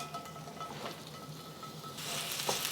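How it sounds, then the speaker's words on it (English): Onions hit hot canola oil in a smoking pan for egg foo young, a faint, steady sizzle that swells noticeably louder and brighter in the final second, with no voices. "I'm going to add my onions."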